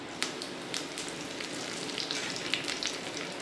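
Steady crackling sizzle of mustard seeds and lentils frying in hot oil, with frequent small pops throughout and no talking.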